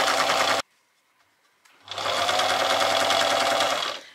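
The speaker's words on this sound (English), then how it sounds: "I'm just going to start and sew that all the way up to the top of the bib." Sewing machine stitching along the edge of denim while sewing up a jeans-made apron bib, running in a short loud burst, pausing briefly, then starting again in a steady, close, sustained whirring run.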